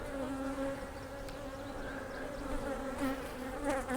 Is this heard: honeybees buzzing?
yes